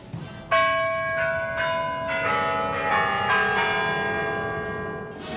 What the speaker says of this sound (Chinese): 随着12时整的钟声响起